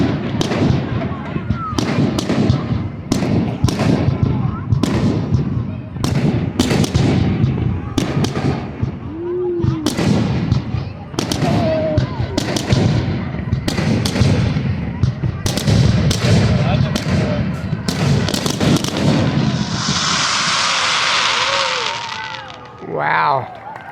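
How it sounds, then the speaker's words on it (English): Fireworks display at the 2023 Frankford Riverfest in Quinte West, with a rapid, continuous barrage of loud nearby bangs and crackles through the whole span, building to a dense finale burst near the end while voices murmur underneath. "And so ends the 2023 Frankford Riverfest fireworks"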